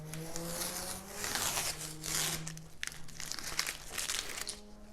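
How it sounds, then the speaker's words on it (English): Masking tape is peeled off a plate in a vacuum infusion setup, producing a close, quiet series of crinkling, tearing rips and crackles with brief pauses between pulls. "We can go ahead and peel that off now."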